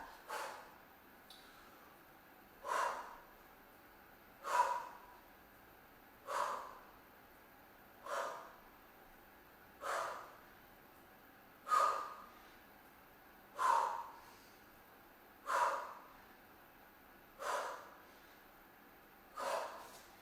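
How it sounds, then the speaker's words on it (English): Heavy rhythmic breathing during a beginner AMRAP workout with clean and push press lifts: sharp forceful exhales about every two seconds, close and fairly quiet, with no talking. "You'll have noticed that I'm breathing."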